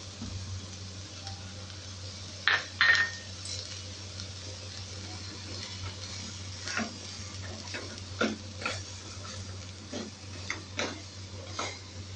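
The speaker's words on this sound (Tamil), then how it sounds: "இப்போ நம்ம மிளகை போட்டுக்கலாம்" Black pepper being added to half-sautéed onions in a pan for pepper onion dosai: faint, scattered ticks and small crisp clicks fall irregularly over a steady low hum, without any talking.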